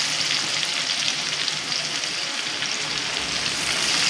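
Garlic, chili and lemongrass stir-fry in a pan, giving a continuous close sizzle and crackle of hot oil with faint stirring scrapes and no talk.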